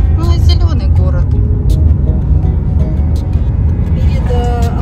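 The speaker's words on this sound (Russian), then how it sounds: "Вот все едут на море, видите, машина за машиной" Cars roll past one after another on a busy road in a green seaside town, a steady close rumble of engines and tires while someone talks over the traffic.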